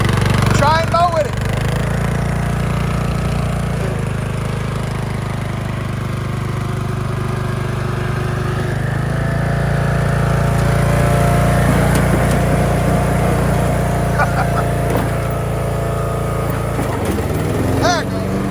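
Craftsman LT1000 riding lawn mower with its small engine running steadily during mowing, a continuous close drone with brief clanks, and faint voices over it at moments.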